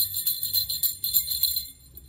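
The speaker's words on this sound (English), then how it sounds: "It's the jingle bells." Metal jingle bells, a percussion instrument, are shaken in several quick bright bursts of tinkling, fairly quiet and close, fading out at the end with no talk.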